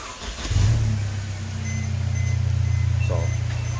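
A Mercedes W204 C250 fitted with an Armytrix downpipe cranks and fires up, jumping into a loud flare before settling into a steady, throbbing idle, close by with no talk.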